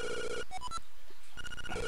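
Electronic telephone ringtone from a phone booth in the Link's Awakening video game, two bright chiming bursts of rapid repeated tones separated by a brief quiet gap with faint game sounds between.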